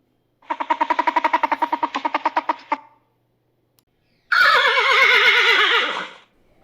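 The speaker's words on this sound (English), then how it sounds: "Horse." A horse gives a rapid, stuttering whinny of about a dozen quick pulses, then after a short silence a second loud, wavering neigh that trails off, with nothing else audible.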